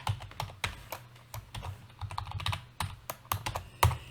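Rapid, uneven clatter of keys on a computer keyboard as a formula is typed into Excel, with close, crisp clicks and a few heavier strokes, no talking.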